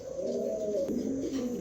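Pigeons at a pigeon sale give a soft, close cooing call lasting under two seconds, with a low rolling tone and no talk over it.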